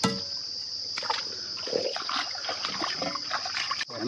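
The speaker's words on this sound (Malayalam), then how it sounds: "വെള്ളം നല്ല സ്പീഡിൽ ഒഴുകുന്നുണ്ട് കേട്ടോ" Water rushes quickly along a small earthen channel feeding fish ponds, a steady close splashing and trickling with gurgling bursts, loud and unbroken, with no voices over it.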